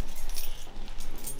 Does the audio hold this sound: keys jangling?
yes